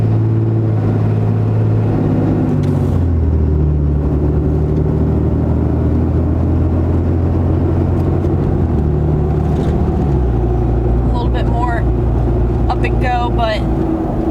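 A truck engine runs in its normal drive setting, a loud continuous low rumble whose pitch steps up and down as it shifts through gears. Someone talks briefly over it near the end.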